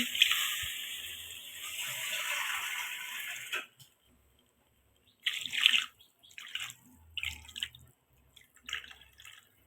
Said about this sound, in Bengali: সবজি কষানো হয়ে গেছে আমি জল দিচ্ছি